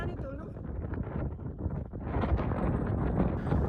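Strong wind buffets the microphone at a Red Rock Canyon overlook near Las Vegas, Nevada, in January. Gusts rumble low and rise louder toward the end, and people talk nearby.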